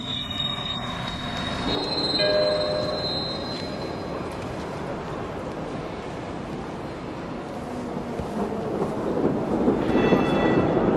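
A train rumbles in with wheels squealing in high metallic tones, the noise building slightly toward the end.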